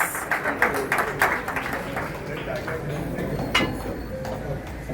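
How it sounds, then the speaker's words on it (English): An audience claps at a community Independence Day event, the applause uneven and moderately loud, with scattered sharp claps and a voice talking underneath. "A huge round of applause to Mr. Arun Kumarji."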